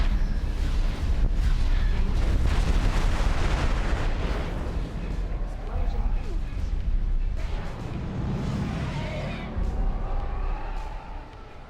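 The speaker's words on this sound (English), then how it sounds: "It's not targeting us again, but it is firing a bit." A turret in the space game Star Wars Interworlds fires amid a continuous roar of distant, booming blasts and rumbling explosions, dense and loud throughout with a voice talking over parts of it.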